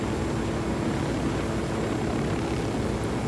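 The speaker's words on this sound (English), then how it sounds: "the helicopter flying" A helicopter flying in a battle royale video game, a steady, dense rotor-and-engine drone held evenly at moderate loudness with no voices over it.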